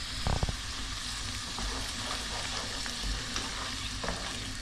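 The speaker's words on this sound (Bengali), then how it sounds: "আর পাস্তা সসটা এটার ভেতর আমি অ্যাড করে নিলাম, এটাকে মিক্স করব ভালোভাবে।" Pasta sauce being stirred into chicken in a frying pan, a steady sizzle under scraping spoon strokes with a few louder knocks against the pan, close by with no talking.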